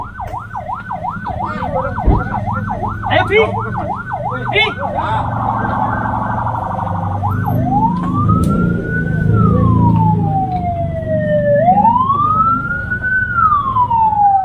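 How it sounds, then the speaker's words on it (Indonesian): An ambulance siren near a mountain trailhead on Mount Lawu, loud and close, first a fast rapid wail, then slow rising and falling sweeps as it passes, with a truck engine rumbling underneath and brief voices. "Ambulan."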